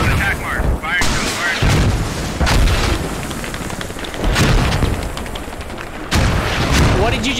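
Heavy explosions and gunfire in Squad, a military shooter game, as anti-tank rounds strike a T-72 tank: loud, booming blasts every second or two with rumbling tails and crackling shots between them, under players' radio talk.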